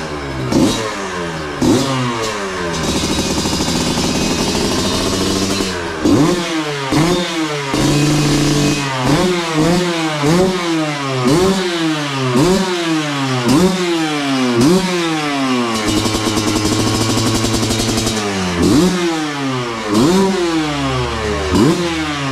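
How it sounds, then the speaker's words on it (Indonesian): A custom trail motorcycle engine runs close by and is revved again and again, with repeated rising and falling throttle sweeps over a steady idle and no talking. "Untuk suara mesin juga nggak kasar, halus, jadi rasa baru."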